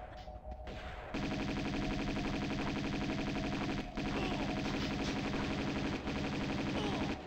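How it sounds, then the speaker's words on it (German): Sustained automatic gunfire in Tomb Raider 2, a steady rapid stream of shots with brief breaks, carrying on for several seconds with little else over it. "Hör auf die Leiche zu schießen."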